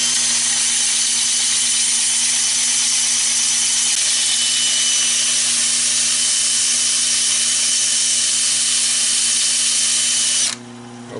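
Sandpaper of 60 or 80 grit pressed against a softwood bowl spinning on a lathe makes a loud, continuous whirring rasp, steady and close, cutting out abruptly near the end.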